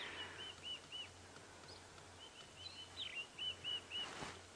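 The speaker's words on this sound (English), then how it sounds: "There's some scrub robins calling." Scrub robins call in a repeated series of high whistled notes, fairly distant over a faint steady background hum, heard at sunrise from a vehicle on a wildlife safari drive.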